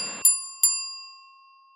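A notification bell sound effect gives two bright, clear dings in quick succession, each ringing out and fading slowly into silence.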